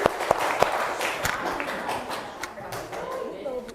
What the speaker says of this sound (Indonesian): Tepuk tangan nih buat kelompok persegi panjang